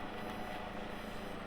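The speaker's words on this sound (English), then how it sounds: "it was in fact the Hampshire and Isle of Wight air ambulance" Hampshire and Isle of Wight air ambulance helicopter circling somewhere off in the distance, a faint, steady rotor drone that holds at an even level throughout with no voices.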